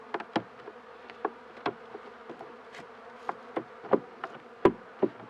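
Honeybees buzzing around an opened hive during an inspection, frequent sharp close buzzes as individual bees fly past, over a soft constant hum with no talking.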